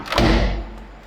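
A tumble dryer door in a beach apartment in Las Dunas, Bahía de Marbella, shuts with a single close, heavy thud that rings briefly and then fades, with no voices.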